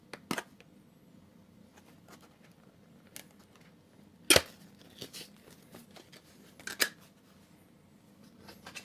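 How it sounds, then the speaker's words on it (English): A mystery box of Hot Wheels RLC model cars is opened carefully, giving scattered quiet cardboard scrapes, a few sharp tearing clicks and rustles with long quiet gaps between them. "Making sure I don't rip the box."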